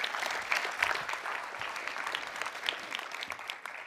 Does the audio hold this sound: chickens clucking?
no